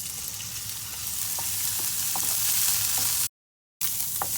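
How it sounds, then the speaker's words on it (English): Shrimp sizzle in a little oil in a pan, a steady broadband frying hiss with occasional pops and utensil clicks, cut by a brief silent gap near the end before the crackle resumes. "In the same pan, we're adding a little bit of oil. So now we add in the shrimp."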